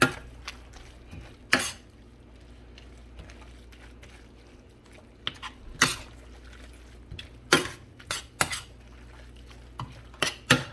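A utensil stirs and chops Rotel nacho dip ingredients in a pot, producing irregular sharp clinks and scrapes against the metal over a quiet background, growing busier toward the end.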